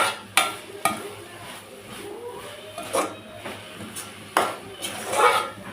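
Drumstick leaves frying on high flame for an egg stir-fry, with steady sizzling and periodic scraping strokes of a spoon stirring in the pan, close and moderately loud throughout.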